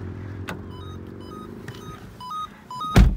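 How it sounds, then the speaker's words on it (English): A soft electronic lights-on warning chime beeps in short repeated tones inside a Peugeot 2008, alongside a couple of clicks and a sharp thud at the end. "if you leave your lights on, the car will let you know"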